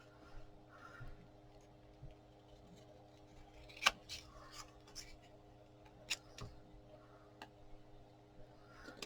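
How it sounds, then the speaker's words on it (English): Large scissors trimming a playing card give two crisp snips a couple of seconds apart, close and fairly quiet against a low background hum. "Okay, so I'm just taking my big scissors."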